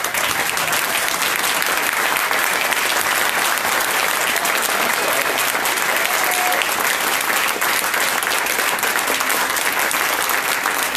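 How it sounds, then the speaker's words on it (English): A large audience at a community awards dinner claps steadily and loudly for about eleven seconds, a dense, even wash of applause without pause. "they deserve a round of applause too."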